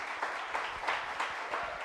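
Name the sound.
applause from church congregation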